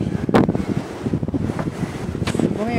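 Outdoors on a cold, icy day, a strong wind rumbles and gusts continuously, buffeting hard and close against the microphone.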